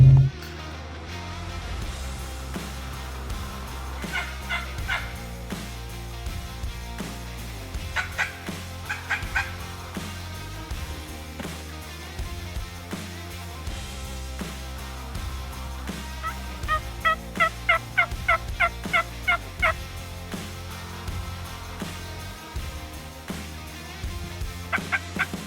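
A wild turkey gobbles several times at a distance, faint rattling calls rising over steady low background rumble in open country.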